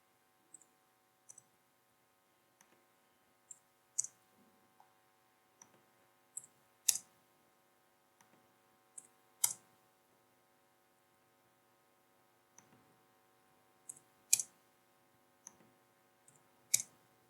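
Mouse clicks from editing a Microsoft Word document, sharp isolated taps at irregular intervals, sometimes in quick pairs, close and quiet over a faint steady electrical hum with no talking.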